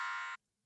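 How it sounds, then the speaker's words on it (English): A kitchen timer goes off with a loud, steady buzzing tone that cuts off abruptly partway through, followed by near silence. "The timer wasn't too bad off, was it?"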